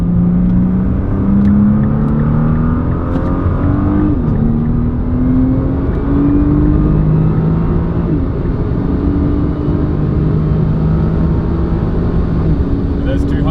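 A 2017 Nissan GTR accelerates hard on the Autobahn, its engine note climbing steadily through long gear pulls with a brief shift dip, loud and continuous, over heavy wind and road roar.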